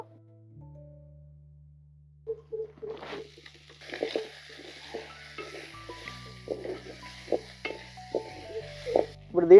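Raw prawn pieces cooking in oil in a covered pan, with soft crackling sizzles and scattered pops alongside low humming and occasional clinks, growing busier partway through.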